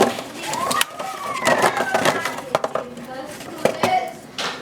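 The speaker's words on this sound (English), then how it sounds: "I'll just cut the butter in two and put it in there" Butter being cut in two with a knife in a home kitchen and dropped into bottles: close clinks, taps and knocks of utensils and containers in irregular bursts, with a voice talking over them.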